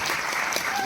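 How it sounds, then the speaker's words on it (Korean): Audience applause at a special guest-visit film screening with the director and actors, a brief dense burst of clapping from a crowd, steady and fairly close throughout. "감독님과 배우분들께 큰 박수 드리면서 마무리하겠습니다"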